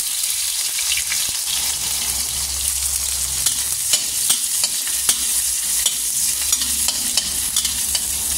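Pork fries in a pan for a cabbage dish, giving a dense, continuous sizzle broken up by repeated scraping and clacking as a utensil stirs it, close and fairly loud with no talking.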